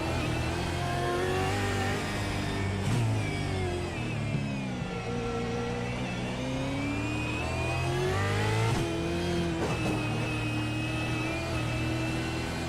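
V8 race car engine roaring on board through the streets of Long Beach in the iRacing simulator, loud and continuous, revs climbing and dropping with gear changes and brief lifts near the limiter.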